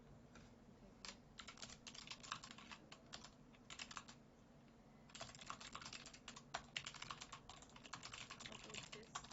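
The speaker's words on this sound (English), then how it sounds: "I'm typing it." Quiet, rapid clatter of computer keyboard keys comes in uneven bursts with short pauses, close by and soft, with faint background noise.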